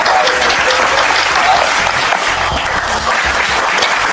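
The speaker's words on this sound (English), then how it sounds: "give our guest a round of applause, please?" Loud, continuous applause greets the guest of a student fitness talk show, many hands clapping close and dense with no pause throughout.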